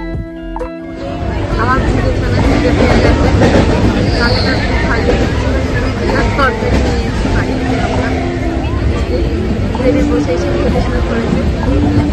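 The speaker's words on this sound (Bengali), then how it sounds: "এই ট্রেন ছেড়ে দিল, ট্রেনটা অন টাইমই রয়েছে।" A passenger train departing a station rumbles steadily along the rails with a continuous low roar, loud and close, with scattered voices faintly underneath.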